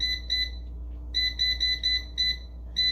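An air fryer being switched on and set beeps in short, sharp, high electronic tones, in a few groups of rapid double pips with brief gaps, close and clear over a faint low hum.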